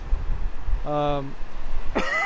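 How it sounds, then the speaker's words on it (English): A single short cough close to the microphone at Jamaica Beach, followed a moment later by a brief vocal sound, over a low background rumble. "I don't know why I'm coughing."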